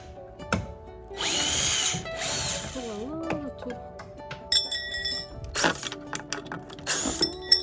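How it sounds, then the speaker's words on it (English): A power drill removing hardware from a dresser during a makeover, running in a few short bursts with metallic clinks of screws and handles between them, close and fairly loud. "I'm gonna go straight to removing the hardware."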